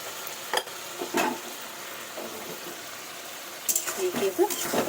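Leafy greens seasoned with salt, turmeric and sugar sizzle in a pan as they are stirred, soft scraping strokes coming in a few separate bursts over a steady low frying hiss, with someone talking.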